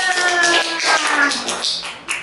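Children clapping their hands together during a Sunday school service, a run of quick, close taps and claps over a few seconds with sung or spoken voices mixed in underneath.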